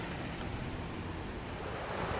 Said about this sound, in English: And this creek is flowing out here